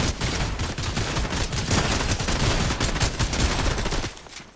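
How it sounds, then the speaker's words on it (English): Dense, sustained gunfire from a Fortnite match, rapid overlapping shots crackling continuously for about four seconds before tapering off, loud and close with no talk over it. "Ooh, shots east?"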